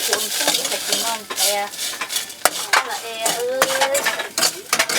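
June beetles roast with sauce in a pan while being stirred, loud close clattering scrapes and knocks over a sizzling hiss, with voices talking over the cooking.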